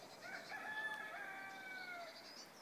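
A rooster crows one long drawn-out call at a distance on a misty early morning outside a hotel in France, rising and then trailing off over quiet outdoor background.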